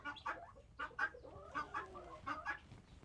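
Guinea fowl and chickens call at a coop, a quiet string of clucks and chattering squawks in uneven bursts, close by and alone without talk.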